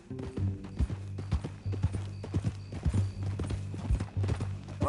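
Horse hooves clip-clopping in a steady, close rhythm, with a horse whinnying now and then and a low hum underneath.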